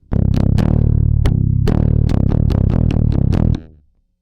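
Bass guitar run through effects plays a bridge section with a walk-down feel, a steady series of punchy, distorted plucked notes for about three and a half seconds before ringing out, loud and alone.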